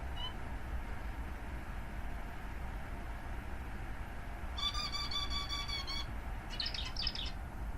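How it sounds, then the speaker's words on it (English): Pet birds chirping in bursts indoors, a quick patterned run of calls in the middle followed by a shorter flurry, fairly clear over a steady low hum of room or computer noise. "Sorry, my birds are very noisy."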